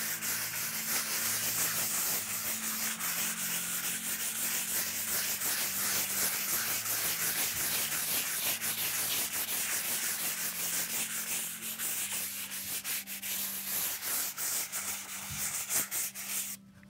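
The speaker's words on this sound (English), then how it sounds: "I have a 220 sandpaper in my hand, and I'm going to sand the surface all over." Hand sanding with 220-grit sandpaper across a panel surface makes a continuous close scratchy rubbing, steady and fairly loud throughout with a quickening rhythm of strokes toward the end, over a low background hum.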